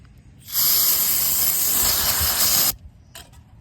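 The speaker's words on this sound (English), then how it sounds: "Hit it with some brake cleaner." Brake cleaner blasts from an aerosol can onto the brakes of a Honda Civic in one loud, steady hiss lasting about two seconds, then cuts off sharply, followed by a couple of faint short noises.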